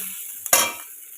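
Asafoetida and bay leaf hit hot oil with a sudden sharp sizzle that flares up close and loud, then quickly settles into a fainter hiss, with a brief clink of a utensil.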